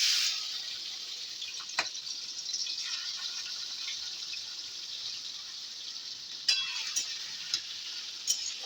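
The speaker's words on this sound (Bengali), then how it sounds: "নিয়ে এটাকে ভাজবো চিংড়ি মাছটাকে।" Prawns coated in salt and chili powder fry in white oil, giving a soft, steady sizzle with a few sharper crackles and spatula taps, fairly quiet and close.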